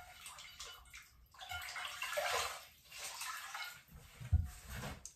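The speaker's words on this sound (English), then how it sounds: "take a face cloth and put it in warm water" A face cloth is dipped and swished in warm water, giving soft sloshing and trickling splashes close by, rising and falling in short bursts with a small clunk near the end, no talk.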